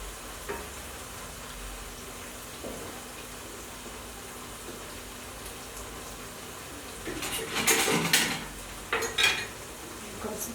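Nigerian jollof rice gets stirred in a pot, mostly a quiet, steady background simmer, then a burst of metal spoon scraping and clinking against the pot toward the end.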